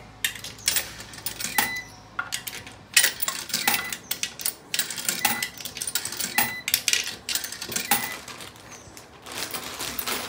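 Coins dropped one after another into a coin-operated laundry machine, a fast, close series of bright metallic clinks and jingles that carries on without a break.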